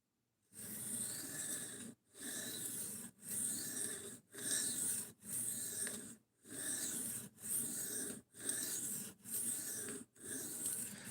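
A knife is drawn across a sharpening stone in about ten even strokes, each roughly a second long, separated by brief pauses, a close rasping scrape with a soft hiss, with no voices.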